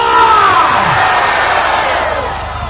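A large crowd at a Nahdlatul Ulama religious lecture for the Islamic New Year roars and shouts together in one loud, sustained surge of voices that fades slightly toward the end.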